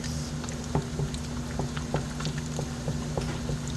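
Bacon frying in hot grease and being basted, a dense close crackle of popping and spitting fat with a steady underlying hum, no voices.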